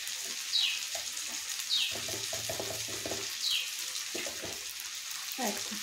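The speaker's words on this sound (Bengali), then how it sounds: "এই মশলাটা কষবো, একটু একটু করে একটু জল দেবো" Spices fry in a pan with a continuous soft sizzle, interrupted by occasional scraping and stirring sounds and small bursts as bits of water are added, at moderate volume.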